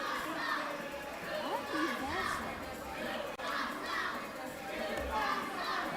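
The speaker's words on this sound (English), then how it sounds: "You can hear the crowd in the background, the Guthrie Blue Jays Little League Club team." Crowd of Little League kids from the Guthrie Blue Jays club cheering and chattering in the stands at a high school wrestling homecoming meet, a steady distant wash of children's voices and shouts throughout.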